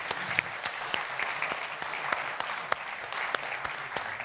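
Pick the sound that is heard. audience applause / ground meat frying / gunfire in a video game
audience applause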